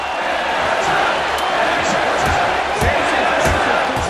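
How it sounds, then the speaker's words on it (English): Arena crowd in UFC Undisputed 3 cheering for Ben Henderson during a fight with Frankie Edgar, a steady loud roar with scattered sharp thuds and whoops rising through it. "And the crowd continues to rally behind Ben Henderson."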